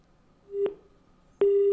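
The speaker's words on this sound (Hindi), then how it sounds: "फोन डिस्कनेक्ट हो गया है।" A telephone call on a phone-in program cuts off: a short beep, a brief pause, then a steady busy tone begins and holds, with no talking.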